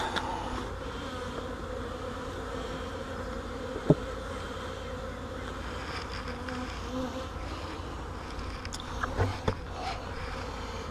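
Honeybees buzz steadily around a newly installed nuc hive, a dense continuous drone with a few sharper close passes near the end and no talking.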